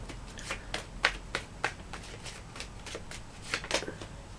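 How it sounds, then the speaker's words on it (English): Tarot cards being shuffled and drawn, a run of crisp riffling flicks and snaps in an uneven rhythm, close and fairly quiet, with no talking. "I'm going to take another card for that"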